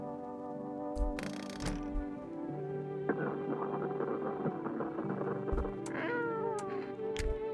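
A cat in the video game Knock, Knock meows several times, with drawn-out, wavering calls over a humming, tonal game background and a few soft thuds.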